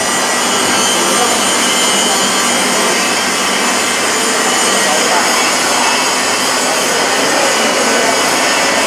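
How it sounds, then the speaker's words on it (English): An injection molding machine running in a factory, a loud, dense, continuous mechanical roar and hiss with no breaks, close and filling the space. "So we're looking at one of the injection molding machines that they use."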